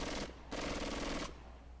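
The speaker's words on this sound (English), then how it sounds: "There was a scream and gunshots" Gunfire in the visual novel Secret Game: Killer Queen comes in two short, rapid bursts separated by a brief gap, loud and close, with nothing else around it.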